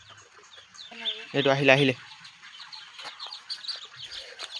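Ducklings are caught by hand, giving a burst of loud cheeping and squawking near the middle, while someone talks quietly before and after.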